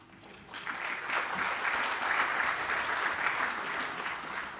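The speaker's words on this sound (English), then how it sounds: "Of course, an applause for beer." A conference audience at the BruCON security event opening claps together, the applause swelling in quickly and holding a dense, even patter before easing slightly, with no voices over it.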